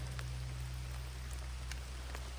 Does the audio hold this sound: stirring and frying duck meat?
no